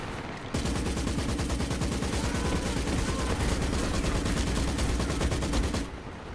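Sustained machine gun fire in the Company of Heroes 2 Stalingrad rail station battle, a dense loud rattle of rapid automatic bursts running nearly continuously for several seconds before cutting off.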